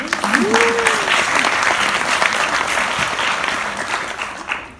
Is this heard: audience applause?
yes